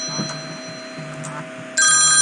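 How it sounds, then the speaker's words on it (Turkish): A telephone rings once with a loud electronic trill near the end, cutting in over quiet room noise and a steady hum. "Şu telefonu kapatalım."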